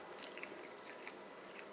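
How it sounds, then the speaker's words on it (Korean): A cat bites and chews on a crinkly plastic bag, giving soft, irregular crunches and crackles heard up close and quietly, with no voices. "얘 그냥 이렇게 비닐을 자꾸 씹어먹어."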